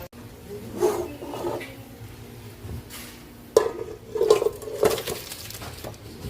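Cooked chicken is moved into another cooking pot, giving scattered clinks and scrapes of a utensil against metal, some louder knocks, and light handling noise in a quiet kitchen.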